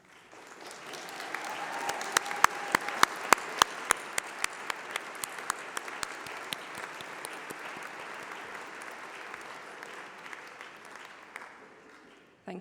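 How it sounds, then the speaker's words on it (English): Graduation ceremony audience applauding steadily for about twelve seconds, a dense crowd clapping with sharp individual claps standing out early, then tapering off near the end. "please can I ask for you to stand up so we can give you a round of applause."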